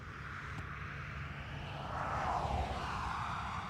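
A Ryanair airliner climbs out after takeoff from Dublin Airport, its engine roar a steady, moderately distant rumble that swells slightly midway and holds.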